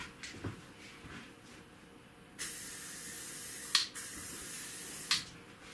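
A Full Dip aerosol can sprays through its white nozzle onto a whiteboard, giving sustained, fairly faint hissing bursts with sharp clicks where each spray starts and stops.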